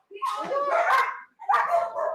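A police K9 dog during training gives two short bursts of excited, whiny barking and yipping, close and fairly loud, separated by a brief pause.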